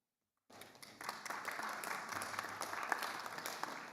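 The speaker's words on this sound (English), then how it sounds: "and now applaud them" A room of graduates at a university graduation ceremony in the State Library of Victoria breaks into applause after a brief silence, with many hands clapping in a dense, sustained patter that holds steady.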